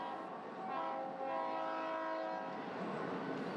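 Southern Pacific and Union Pacific freight trains pass at Cajon Pass in 1995, a steady loud rumble of rolling cars and diesel engines with a sustained horn blast that holds for several seconds.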